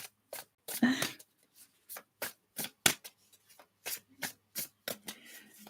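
Rapid bursts of tarot card shuffling, a series of short riffling sweeps with brief pauses between them, close and fairly quiet.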